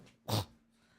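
One short, loud dog bark sounds close by, with near silence before and after.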